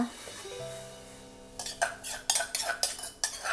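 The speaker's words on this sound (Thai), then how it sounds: "ใส่พริกแกงลงไปค่ะเพื่อนๆจ้า" A utensil scrapes and clinks against a pot while curry paste is stirred in for a frog and luffa curry. Irregular, close stirring strokes follow a quieter start with a faint tonal hum.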